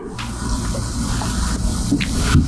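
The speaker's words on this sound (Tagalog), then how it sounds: "Ang huling itetest natin ay tap water." Tap water running steadily from a faucet, a continuous close hiss and splash of filling liquid with no talk over it.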